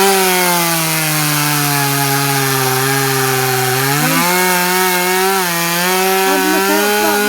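A chainsaw cuts into a log with a loud, sustained buzzing whine that dips in pitch as the blade bites deeper into the wood and then climbs again, heard close and continuous.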